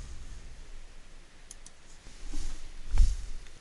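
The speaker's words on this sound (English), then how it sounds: "Click Continue." A single faint computer mouse click, brief and soft, over quiet room hiss while a Continue button is pressed in an online course request form.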